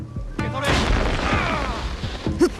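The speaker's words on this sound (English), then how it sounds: "Perfect opportunity to call upon our ally Genojo and some of his exploding tricks." Explosion in Assassin's Creed Shadows from an ally's exploding tricks: a booming blast with a crashing rumble that swells and lingers for about two seconds, close and loud.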